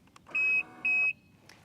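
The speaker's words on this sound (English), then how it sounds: "It will beep at me to warn me" A Yamaha Tricity 300 scooter gives two short, high electronic warning beeps in even succession, clear and close over a faint background hum.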